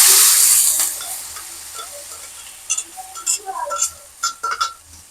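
Ground spice paste hits a pan with shallots and a loud sizzle bursts up, then eases into a quieter frying hiss while a utensil scrapes and clinks against the pan in uneven strokes.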